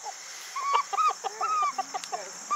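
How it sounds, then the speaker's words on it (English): A backyard chicken clucks close by in a quick, uneven run of short, squawky calls, some of them rising into brief drawn-out notes, with no other sound around it. "That chicken's mean."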